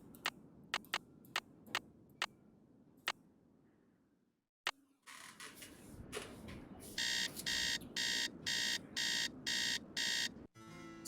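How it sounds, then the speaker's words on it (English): Alarm clock sounding in the Nancy Drew: Treasure in the Royal Tower game: a run of sharp ticking clicks, a brief pause, then loud repeated buzzing beeps in steady pulses, with no talking. "Okay, alarm."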